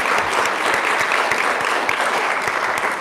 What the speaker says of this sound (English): give a round of applause to Amy